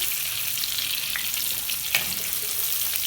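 Brinjal sautés in oil in a hot clay pot, making a dense, steady close sizzle with a couple of brief stirring knocks.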